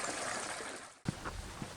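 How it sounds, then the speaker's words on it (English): A small mountain creek, the Wind River along a forest trail, trickles and burbles in a soft, continuous wash with a few brief splashy gurgles, faint and nearby. "It's like a tiny little creek."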